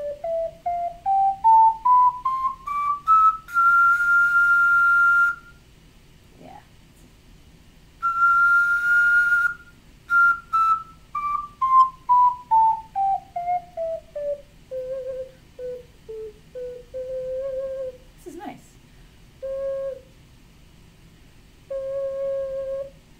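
Luna Celta Moon's Tear ocarina played loudly, clear pure tones rising in stepwise scales to sustained high notes, then descending, with short pauses between phrases.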